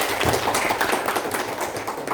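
An audience applauding team A at a high school quiz competition, the Porseni event at SMAN 4 Jeneponto in 2021, with dense, continuous clapping from a crowd at moderate distance.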